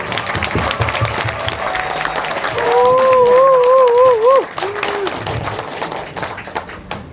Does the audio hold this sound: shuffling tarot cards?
no